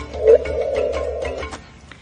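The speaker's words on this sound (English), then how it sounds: "those two black holes colliding sounds like this" A sonified gravitational-wave signal from two colliding black holes: a low, wavering synthetic tone rises slightly then fades over about two seconds, with faint higher chirps scattered above it, heard alone without speech.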